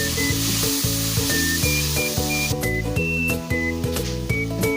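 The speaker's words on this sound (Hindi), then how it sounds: "अब हम इसे 2 से 3 मिनट तक भूनेंगे हल्की आंच पे, ताकि हमारी जो सब्जियां हैं ये भी गल जाए और चिकन भी हमारा अच्छी तरह से कुक हो जाए।" Chicken and vegetables fry on low heat in a pan, giving a steady, close sizzle that runs throughout beneath prominent background music.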